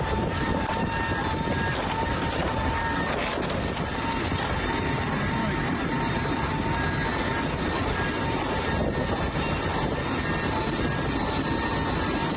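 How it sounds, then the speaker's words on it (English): A small plane slams into a mound of snow at the end of the runway at Courchevel Altiport, giving a steady, loud rushing roar of engine and impact noise that carries on throughout with no talking. "a small plane slams into a mound of snow at the end of the runway"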